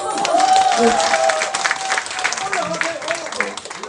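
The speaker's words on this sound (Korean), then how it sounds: "오 박수." Scattered clapping from an audience rises under a speaking voice and continues as a light, steady patter of applause.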